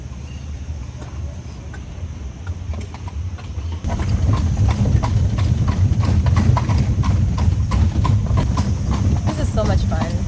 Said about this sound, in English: We're going on a horse-drawn carriage.